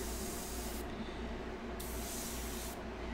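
Airbrush spraying paint on a portrait at raised air pressure, a steady close hiss of air and paint that breaks off briefly twice and then resumes, with no talking.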